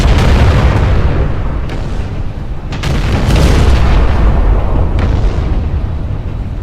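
Scharnhorst battleship guns firing in a naval battle video game: a dense, continuous barrage of deep booms and rumbling blasts, loud and sustained, with several sharper reports standing out through the heavy low roar.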